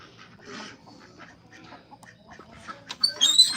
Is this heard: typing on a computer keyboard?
no